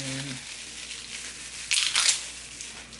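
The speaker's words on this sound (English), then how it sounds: "Let's get these maraschinos open." A plastic jar of maraschino cherries is opened, giving a short, loud burst of crackling, crinkly plastic noise midway through. Quieter handling sounds come before and after it, and a brief voice-like tone is heard at the start.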